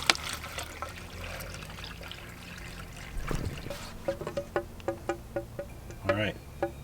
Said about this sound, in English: We'll pour that in, and then we'll do another one.